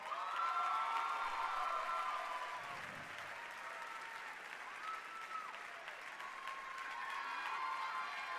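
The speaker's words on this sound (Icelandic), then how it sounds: "Má ég heyra í ykkur, meira klapp!" A large audience applauds steadily throughout as contestants come onstage at a school singing contest, with scattered cheers and whistles rising over the dense clapping.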